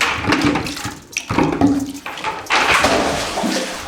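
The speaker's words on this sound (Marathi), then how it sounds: "मी बऱ्याच दिवसांनी विहिरीतून पाणी शेंदणार होतो" Water being drawn by hand from an old well at a centuries-old mansion, close splashing and pouring surges that rise and fall in uneven bursts, with brief pauses between pours.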